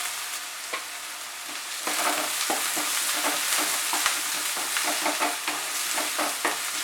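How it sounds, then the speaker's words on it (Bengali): Two medium chopped onions fry in oil in a wok over medium heat, giving a steady crackling sizzle broken by stirring scrapes, close and fairly quiet, with no talk. "এগুলোকে মাঝারি আঁচে আমি একটু ভালো করে ফ্রাই করব।"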